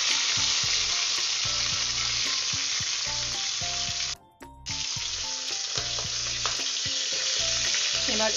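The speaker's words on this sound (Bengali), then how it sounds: "এবার আমি মাথাগুলো ভেজে তুলছি।" Hilsa fish heads rubbed with salt and turmeric fry in hot oil in a wok, giving a dense, loud, continuous sizzle with a brief break in the middle and soft clatters of stirring underneath.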